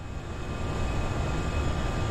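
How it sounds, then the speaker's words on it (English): Steady, droning roar of Airbus A320 engines with a Eurowings livery in a flight simulator, a broad continuous rumble with a faint high whine, even and unbroken throughout. "Engines sound the same."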